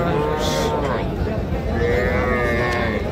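Young bull calves, around two to two and a half months old, moo at a cattle market in a loud, close, drawn-out call with a second lowing call after it, over faint crowd murmur.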